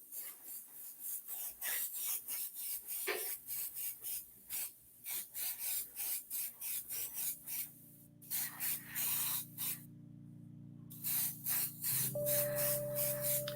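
Airbrush spraying paint onto armor in repeated short bursts of close, airy hiss separated by brief pauses, with a steady low hum rising near the end.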